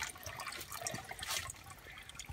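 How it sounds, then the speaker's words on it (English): Slow trickle of spring water running from a pipe set into a rock seep along the Appalachian Trail in Shenandoah National Park, a soft, steady, faint outdoor splashing without speech. "There's a little spot way in the back where the water trickles down"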